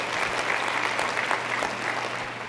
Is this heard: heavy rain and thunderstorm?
no